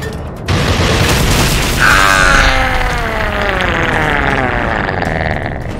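A rocket launcher fires in the video game Generation Zero: a sudden loud boom followed by a long rumbling, rolling tail that stays loud for several seconds.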